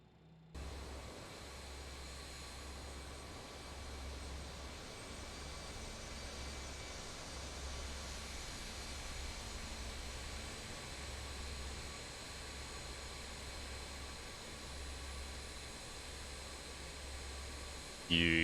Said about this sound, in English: Let's watch the departing Airbus